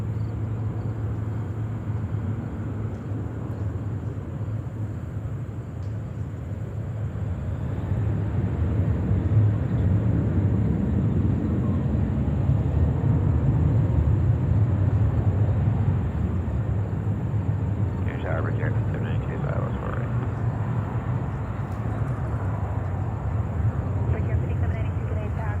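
An Emirates jet takes off from runway 4 Left at JFK airport in New York: a distant, broad engine rumble swells and holds, with faint voices in the background.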